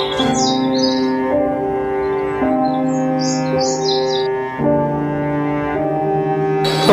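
A small bird chirps in quick high bursts over steady background music in an animated Hindi children's story about a lion's cave.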